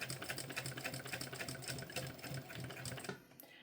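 A sewing machine stitches a backpack strap, running steadily with a fast, even mechanical clatter at close range and then stopping abruptly near the end.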